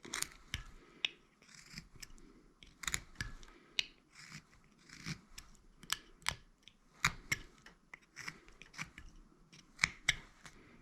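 A knife cuts a stop cut for the bottom of the nose of a carved wooden face, giving a series of sharp, close, quiet clicks and crisp snaps spaced irregularly, with soft scraping between them.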